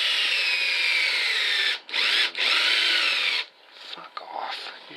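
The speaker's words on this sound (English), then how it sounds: "we're going to drill our little hole" Whine of a cordless battery drill boring a hole while making a homemade nipple wrench. It runs steadily and loud with two brief pauses, then cuts out and trails off into weak, sputtering bursts.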